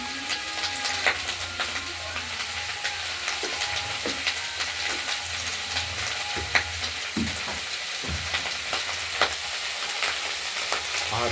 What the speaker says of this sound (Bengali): পেঁয়াজকলিগুলো কড়াইতে দিয়ে দিয়েছি।